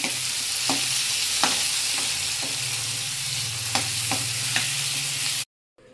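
Cluster bean curry with tomatoes sautéing in a pan, a loud continuous sizzle punctuated by occasional spatula scrapes, ending abruptly in silence.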